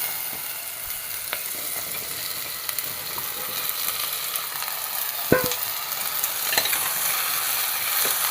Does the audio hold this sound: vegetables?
yes